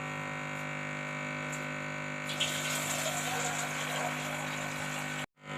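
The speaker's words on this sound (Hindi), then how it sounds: "एक गिलास मैंने पानी का इसके अंदर और डाल दिया" A glass of water is poured into a cooking pot with chickpeas and salt, making a steady, close gushing splash that runs evenly for several seconds before cutting off abruptly.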